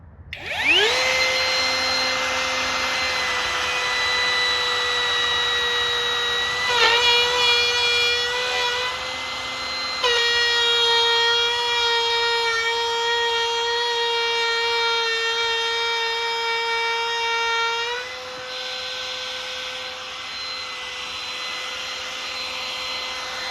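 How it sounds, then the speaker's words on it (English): A router cuts out the center section of a wooden restaurant shelf, a loud, high whine rising as it spins up and holding steady, with pitch dips as the bit bites into the wood. "reset the router, and we'll knock out this center part"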